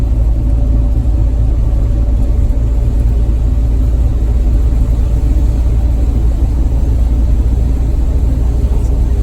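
An old bus engine labors up a hill on a hot afternoon, a loud, steady low rumble and drone that holds constant throughout with no breaks or voices.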